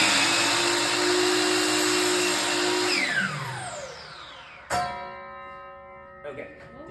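A chop saw whines loudly through a cut, then winds down with a falling pitch. A sharp metallic ding rings out near the end as a scrap strikes the blade, followed by a few faint knocks.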